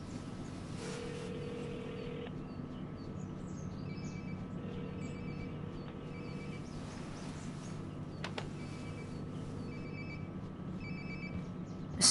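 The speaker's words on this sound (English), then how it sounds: "Sounds like my phone is definitely nearby." A phone rings somewhere nearby inside a PS4 video game, faint repeated electronic ring bursts over a steady low game ambience and water-like rumble, with no talking.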